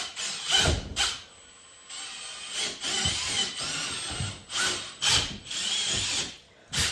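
A power drill whirs in repeated bursts, straining and bogging down as it mixes thick molasses for rum, with short pauses between runs.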